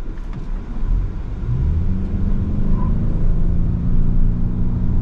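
A 2024 Lincoln Nautilus Hybrid SUV with all-wheel drive accelerates hard, its wheels briefly spinning. A loud, close, continuous engine and road rumble swells steadily over five seconds.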